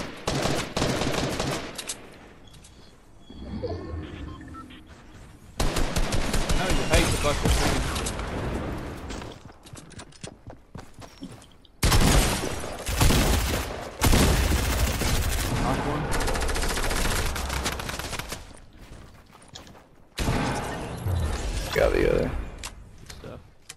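Drum gun fire in Fortnite comes in long rapid bursts of dense, loud automatic shots, separated by brief pauses, with game effects and players talking underneath.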